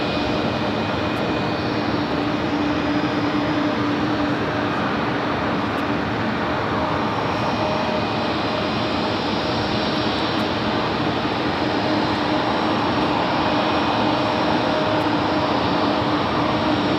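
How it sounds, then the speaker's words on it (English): A UPS Airbus A300 climbs away from JFK runway 13 right, its engines a continuous distant roar with faint steady tonal whines, heard alone throughout. "We do have that UPS Airbus A300 shooting up like a rocket off of 13 right."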